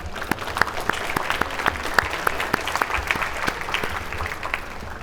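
Audience at a Parkinson's symposium closing session applauds the speakers and sponsors, a steady wash of many hands clapping with sharp individual claps standing out, no talk over it.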